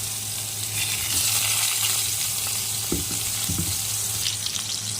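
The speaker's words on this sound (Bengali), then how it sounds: "আলুটাকে ভেজে নিতে হবে।" Potatoes frying in mustard oil in a wok, a dense continuous sizzle and crackle close by, with a few soft knocks from stirring midway.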